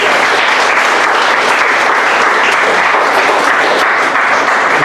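Church congregation clapping their hands together in a loud, sustained, dense burst of applause with no talk over it.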